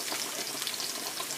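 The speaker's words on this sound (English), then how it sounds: "I chopped up some onion, garlic, bell pepper, red pepper, and yellow pepper. And it's been frying for about a couple of minutes now." Chopped onion, garlic, bell pepper, red pepper and yellow pepper sizzle in a hot pan, a dense, steady crackling hiss heard up close without any talking.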